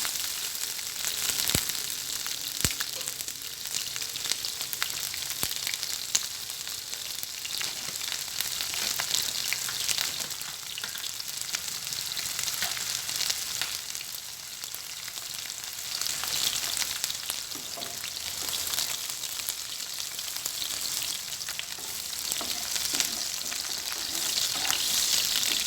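Onions frying in a pan while pork and mushroom cook, a continuous crackling sizzle at an even level throughout, with no talk over it.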